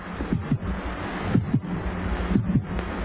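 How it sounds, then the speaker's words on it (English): A slow, heavy heartbeat sound effect from a science-fiction film, regular lub-dub pairs thumping about once a second, close and steady over a low windy hum, with no talking. "I can hear my heart beating."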